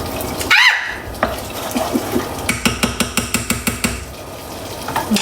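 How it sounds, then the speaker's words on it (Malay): Water poured into a blender in a home kitchen while cooking sambal sotong, a splashy pour followed by a quick run of light rhythmic knocks and clatter, moderately close. "Masukkan air dalam blender."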